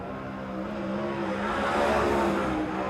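A sprint race car circles Silver Dollar Speedway on a qualifying lap, its engine a steady loud roar that swells slightly as it passes, with no voices.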